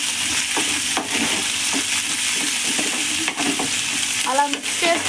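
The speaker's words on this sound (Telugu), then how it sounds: "అలా మిక్స్ చేస్తూ ఉంటే అవి నూనె చాలా మంచిగా పట్టి ఇవి ఎర్రగా వేగుతాయి" Curry leaves, mint, green chilies and onions frying in hot oil, a loud, steady sizzle with a spoon scraping and stirring through the pan close by.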